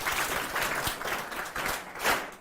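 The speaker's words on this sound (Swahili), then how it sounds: "Asante sana, tumpigie Ustadh makofi." An audience applauds a Muslim teacher (Ustadh) at a live event, with steady, moderately distant clapping from a crowd, continuous throughout with small swells.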